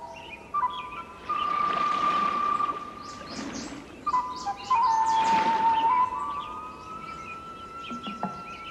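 Birds in the Australian wetlands call out with long, clear, whistled notes that hold steady or slide, along with scattered chirps, over a soft, constant hiss of the surroundings.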